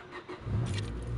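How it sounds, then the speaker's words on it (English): A manual-transmission car engine cranks and catches, a brief key-turn rattle followed by the motor starting and settling into a low idle, close and fairly clear. "you have to hold in the clutch when you start a manual car"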